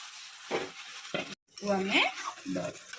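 Mutton pieces being stirred and fried in a pan for Odia mutton kasa, with spoon scrapes and bursts of sizzle coming in short uneven strokes, close and moderately loud, with one brief gap of silence.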